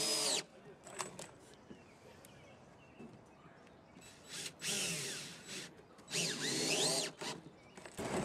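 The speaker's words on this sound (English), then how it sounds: "we're going to go between each of the fasteners and put an extra fastener in to secure those corners" A power drill drives extra screws into raft decking in short whining bursts of varying length, separated by quieter pauses filled with outdoor background noise.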